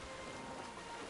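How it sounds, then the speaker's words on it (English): Steady rain falling in a video game, a soft, even wash of drops on surfaces with no breaks, heard faintly on its own. "bloody rain"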